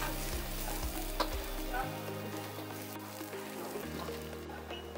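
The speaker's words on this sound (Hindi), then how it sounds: "इसमें हम डालेंगे गार्लिक चॉप किया हुआ गार्लिक और जिंजर एक टी स्पून डाल के हल्का सा सोते करना है इसको" Chopped garlic and ginger sautéing in oil in a restaurant kitchen, a soft continuous sizzle beneath a low steady hum, with occasional light scraping and tapping of stirring.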